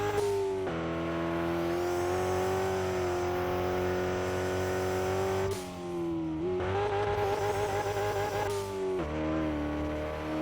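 In the RevHead racing video game, a race car engine drones at high steady revs, dipping and shifting pitch with gear changes as it climbs hills.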